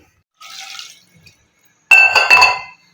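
Water poured from a tumbler into a cooking pot with goat trotters, salt and turmeric, giving a brief splashing pour with faint clinks, then a louder, fuller burst of pouring and clattering against the vessel, close by.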